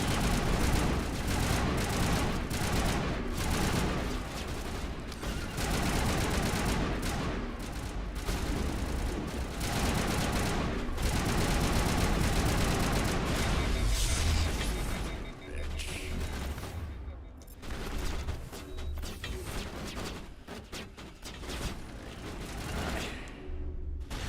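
Rapid video game gunfire during a shootout in the Mass Effect Noveria level, dense loud bursts and booms filling the first fifteen seconds, then sparser shots and impacts, with occasional voices in the mix.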